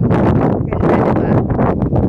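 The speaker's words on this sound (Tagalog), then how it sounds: "kasi mataas dito and mahangin talaga. Naririnig nyo naman." Strong wind on a high hilltop where paragliders launch, buffeting the microphone in loud, continuous gusts that swell and dip, with no voices heard.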